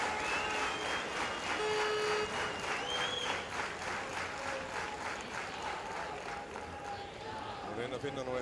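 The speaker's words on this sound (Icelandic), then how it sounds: "Og gott klapp hérna að lokum." Stadium crowd applause rolls through the stands at the Iceland versus Albania Euro 92 qualifier football match, a broad continuous wash of clapping and cheering under a commentator's voice.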